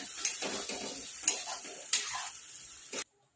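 Brief scraping strokes of a spoon through thick, sizzling tomato puree and spices in a pan, with a few sharp metallic taps, ending abruptly.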